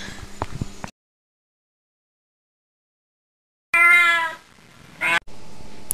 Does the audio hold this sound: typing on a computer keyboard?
no